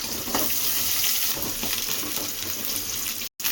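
Garlic, curry leaves and onion fry in hot oil with a dense, even sizzle that carries on steadily and close, with a short break near the end and no voices.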